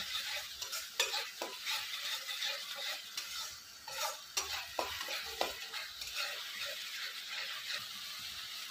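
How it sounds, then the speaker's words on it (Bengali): Mustard and poppy seed paste is stirred and sautéed in a pan, a quiet continuous sizzle broken by frequent spatula taps and scrapes, close and unhurried, no voices. "ভালো করে নেড়ে দেবো, তারপর কষিয়ে নেব।"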